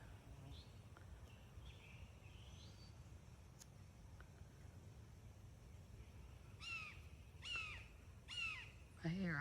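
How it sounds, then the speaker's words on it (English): A hawk calls around a rural garden in hot June weather, giving several sharp, descending cries in the latter part, fairly near, over steady outdoor background noise. "I hear a hawk."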